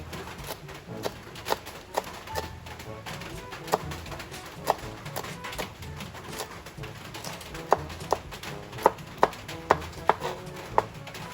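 A knife chops food into small pieces at home for dinner, with sharp, irregular taps on a board that come faster toward the end over a faint room background.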